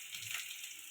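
Green chillies fry in hot oil in a pan for a fish-head curry with tomato, aubergine and potato, giving a brief, steady, quiet sizzling hiss with no voices.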